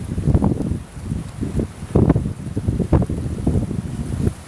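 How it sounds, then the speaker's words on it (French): Strong gusty wind buffets the microphone at a fishing spot, coming as loud low rumbling bursts every second or so with no break between them. Nobody speaks. "là il y a du vent de ouf"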